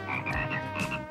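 A cartoon character's croaking, frog-like voice, made by a prince, sounds in a few rough, rasping bursts over about a second, fairly loud and alone with no other talk.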